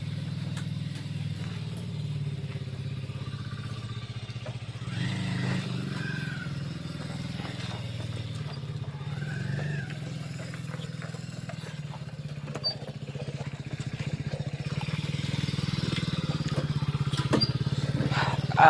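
A motorcycle engine runs nearby at a low, steady idle, growing slightly louder toward the end, with faint background noise and no clear speech.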